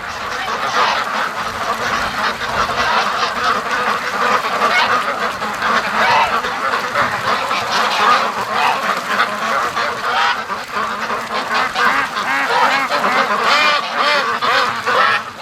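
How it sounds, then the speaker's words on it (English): A large flock of free-range ducks rushes toward a lake, filling the air with loud, continuous overlapping quacks and honking calls close by, with no let-up throughout. "That's a serious whack of ducks going down."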